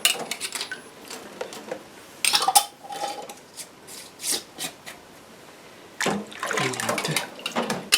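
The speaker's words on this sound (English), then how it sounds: "put our lids on" Metal lids clatter and clink onto glass canning jars packed with ripe tomatoes, a run of short scrapes and taps with quiet gaps, then a denser cluster of rattling handling near the end; no one speaks.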